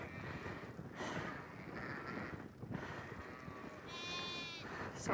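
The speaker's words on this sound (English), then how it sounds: "So many little lambs." Sheep and little lambs give several faint bleats in a rural field, scattered over breezy outdoor background noise with a light wind rumble.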